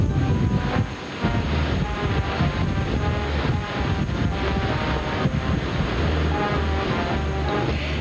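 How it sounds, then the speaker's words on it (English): Strong storm wind in Mobile, Alabama roars steadily, buffeting and rumbling against the microphone with no break. "it's quite windy"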